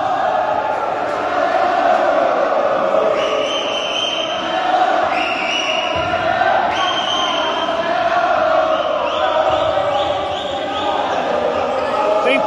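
Organized supporters cheer steadily at a futsal match, a sustained crowd roar with a few whistles and ball bounces mixed in, while a commentator talks over it throughout.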